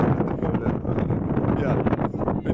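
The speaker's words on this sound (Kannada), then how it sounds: "ಗಾಳಿ ಆಪೋಸಿಟಿಂದ ಬರ್ತಿರೋದು" Strong wind buffets a handheld microphone on an off-road outing, giving a loud, continuous low roar and rumble that stays close and steady throughout.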